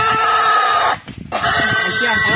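A pig squeals loudly and continuously right up close, its shrill cries broken by a brief pause, with a voice talking over it.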